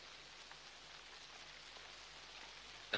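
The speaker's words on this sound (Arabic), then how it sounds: "بره في مطر كتير وفي ديابه." Heavy rain falls outside as a steady, even hiss with no speech, ending in a brief louder rustle.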